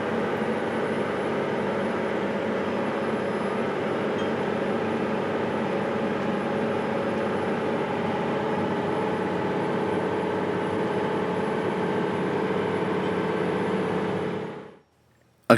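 A New Holland T9.450 four-wheel-drive tractor pulls a chisel plow at about 5 mph, its engine a steady loud drone held evenly throughout before cutting off abruptly at the end.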